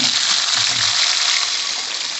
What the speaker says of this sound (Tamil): வெங்காயத்தை உள்ள இறக்குறேன்.